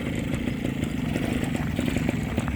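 A 1996 Rajdoot Excel T two-stroke motorcycle runs steadily close by, its engine giving a rough, buzzy, continuous putter with rapid firing pulses and no talk over it.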